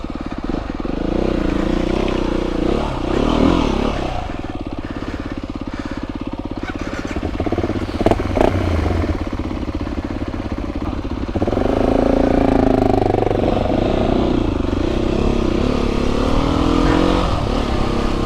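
Off-road motorcycle riding a muddy green lane, its engine droning steadily and revving up and down, loud and close throughout, with a brief clatter partway through.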